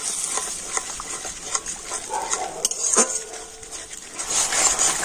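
Spices, slit green chillies and yogurt being sautéed together in a pan: a bright continuous sizzle with repeated scraping and clattering of a spatula against the metal, fairly close and loud.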